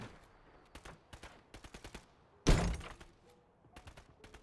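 Gunfire from a Striker loadout in Modern Warfare 3: quick irregular bursts of shots throughout, with one much louder, heavier blast near the middle, close and mostly alone.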